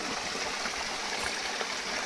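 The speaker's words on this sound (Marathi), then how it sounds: "बघा हा वॉटरफॉल" A small waterfall streams over trees in a dense, continuous hiss of running water with no voices.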